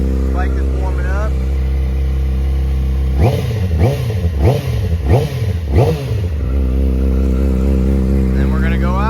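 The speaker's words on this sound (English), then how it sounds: "Bike is warming up." Racing motorcycle engine warming up at a track on a race weekend, idling then blipped through five quick, loud revs in a rhythmic series before settling back to idle, close by.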